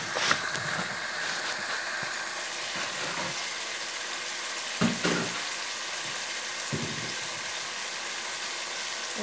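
Rui fish pieces frying in a covered pan, a steady moderate sizzle with a few soft clunks from the lid or utensil and no speech.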